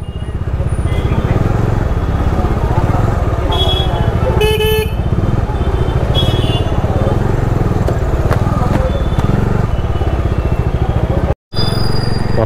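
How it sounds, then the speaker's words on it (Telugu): Heavy road traffic on the way to Hyderabad with motorcycle and car engines droning close by and repeated horn honks cutting through, one brief dropout near the end. "ఘోరంగా ఉంది ట్రాఫిక్ ఇటు"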